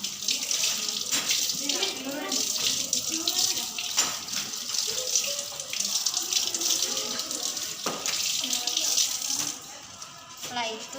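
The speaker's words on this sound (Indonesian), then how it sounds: "Kemudian dibilas sampai bersih." Washed dishes rinsed clean under a running tap, a steady close splash and gush of water into a sink, continuous throughout with faint shifting as items pass beneath the stream.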